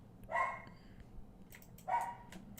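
A dog barks twice, two short, clear barks about a second and a half apart, fairly close indoors over a low background hum, with no talking.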